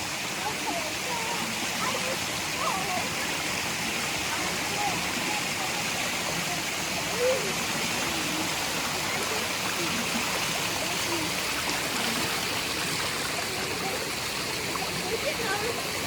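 Continuous rushing of a waterfall and flowing stream, steady and close, with faint voices now and then.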